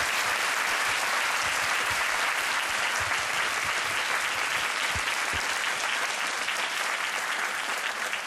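An audience at a university talk applauds warmly, a dense, steady wash of clapping from many hands that stays even and sustained from start to finish.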